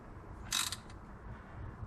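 A 15 mm long flex-head ratchet tightening a bolt on a 1998 Jeep Cherokee XJ water pump, heard as one brief close clicking burst in a quiet garage.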